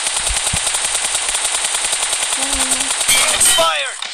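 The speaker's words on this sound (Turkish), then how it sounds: "Şu o headshot vurunca çık çık diyen sesler çok ya." Rapid automatic gunfire from the PUBG Mobile game, a steady stream of close, loud shots with a brief quieter tone midway and a short burst of higher metallic ringing near the end.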